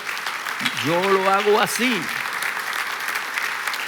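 A church congregation applauds during a pastor's sermon, a steady wash of clapping running under the preacher's speaking voice.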